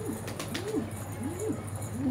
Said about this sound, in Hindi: वो सामने आया एक कबूतर का बच्चा